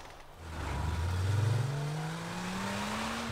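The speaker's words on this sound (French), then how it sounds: "il s'emmerde pas le petit avec sa bagnole" A car engine in The Sims 3 revs up in a rising whine that climbs steadily in pitch and then holds, fairly loud and close, with no talking over it.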